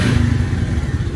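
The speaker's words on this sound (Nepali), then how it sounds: "यता हाम्रो बाइक स्टार्ट भइसक्यो" A motorbike engine runs close by with a loud, rough low-pitched chug and rapid irregular firing pulses. No voices are heard.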